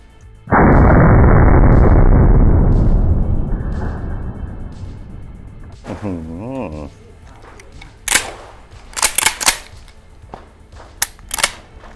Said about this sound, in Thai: ชุดนี้จะลองยิงนะครับด้วยลูกโอบา9เม็ดนะครับยิงไปที่ตัวแกลอนนะครับ